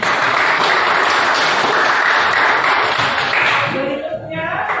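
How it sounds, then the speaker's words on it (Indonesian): Loud, dense applause from a classroom of students cheering a group that just finished its presentation, a thick continuous wash of clapping that thins and fades near the end. "beri tepuk tangan untuk kelompok"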